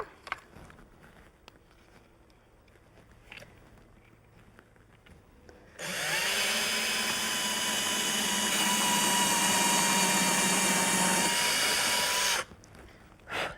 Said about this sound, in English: All right, so safety glasses on for drilling.